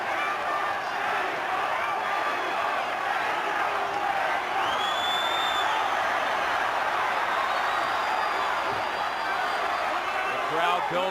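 A boxing arena crowd roars and cheers steadily throughout a fight, loud and unbroken, with a commentator speaking over the noise.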